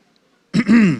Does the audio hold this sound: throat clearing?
yes